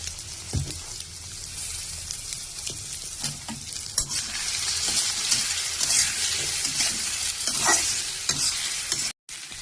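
Egg frying in a hot pan while being stirred, a continuous close crackling sizzle with intermittent scraping stirs throughout, no speech.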